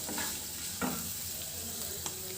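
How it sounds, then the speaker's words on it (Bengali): Chopped green beans being stirred into hot oil in a pan, a steady soft sizzle broken by a few scraping strokes of the spoon near the start and again toward the end. "বিনসটাও একটু নেড়ে মিশিয়ে নেব"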